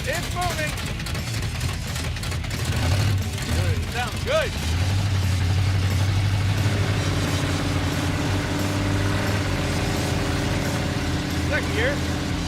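Junkyard Chevy Tri-Five car with its engine running while driving, a steady low rumble and drone that settles into a sustained hum, with people talking over it throughout.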